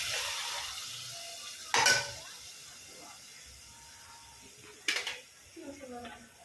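Red masala frying in a pan with cumin in hot oil, a low steady sizzle broken by two sharp scraping stirs and some light clinks of a spoon on the pan.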